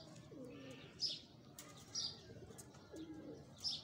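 Pigeon of an old Sialkoti Batera breed cooing in low repeated phrases, with several short bursts of wing flapping close by, no talking.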